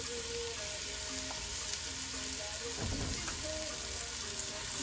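A quarter onion fries in butter in a pan, giving a steady, soft sizzle with a faint bubbling hiss that runs evenly throughout without talk.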